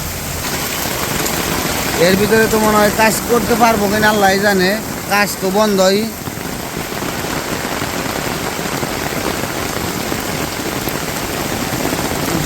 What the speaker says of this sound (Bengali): জোর বৃষ্টি একদম